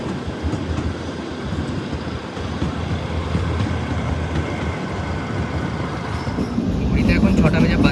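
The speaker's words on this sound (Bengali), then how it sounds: "দেখুন এইরকম স্পিড নিয়ে চলে এই ট্রেন" The Shivalik Express toy train runs on the Kalka–Shimla line with a continuous rattling clatter of wheels and carriages, heard close from inside, growing slightly louder near the end, with voices in the background.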